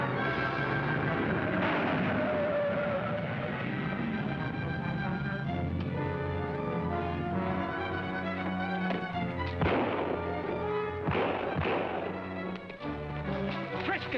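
Gunshots on a road in a 1941 serial, several sharp cracks and thumps scattered over old, muffled film sound with a running engine and music bed, fairly loud and close.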